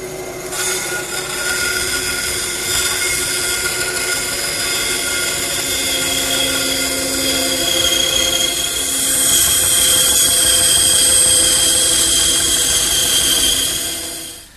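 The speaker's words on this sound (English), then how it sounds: "it's off to the bandsaw to rough it out" A bandsaw rough-cuts a wooden handle shape from a traced template, giving a steady, close mechanical whine that swells slightly as the blade works through the wood, with no voices.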